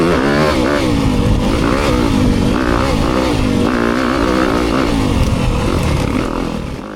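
A 2025 Yamaha YZ250FX dirt bike, running a low-end engine map, accelerates hard out of a corner. Its loud, close engine climbs steadily through the revs and sustains a continuous raspy drone for about seven seconds.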